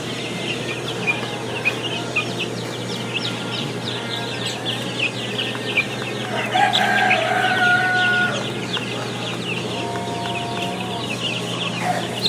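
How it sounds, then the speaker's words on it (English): Chickens cluck continuously around a farm's brooder chick house, with a rooster crowing loudly once midway over the steady flock chatter. "these are the little chick houses, little brooders. It's full of little chickies."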